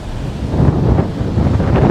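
Strong wind buffets the microphone on a Goa beach, a loud continuous rumbling roar with surf washing underneath, heard up close and without speech.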